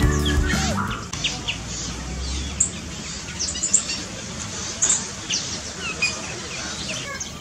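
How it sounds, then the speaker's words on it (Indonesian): Birds chirp in a mulberry tree inside a semi-natural aviary, scattered high tweets and calls near and far over a rustling background, with a brief low hum at the start. "Kita lihat-lihat nih burung-burung yang ada di pohon murbei ini."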